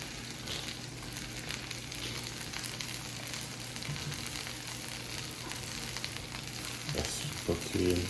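Shrimp fry in a pan for a garlic butter sauce, a soft steady sizzle that holds evenly throughout, fairly quiet and close, with a couple of faint utensil taps near the end.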